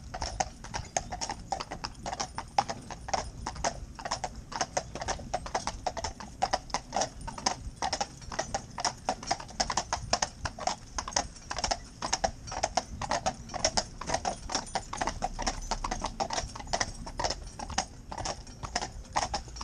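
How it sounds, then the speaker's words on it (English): Friesian horses' hooves clip-clop in a steady, brisk rhythm on the ground, each strike close and distinct, continuing without pause throughout with no talk over them. "The rhythm of the hooves as they touch the ground"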